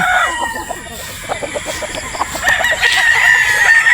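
A rooster crows over a backdrop of game fowl clucking in a busy game-farm yard, with several birds calling at once.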